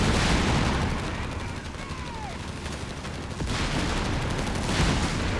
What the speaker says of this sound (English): Bringing in some artillery.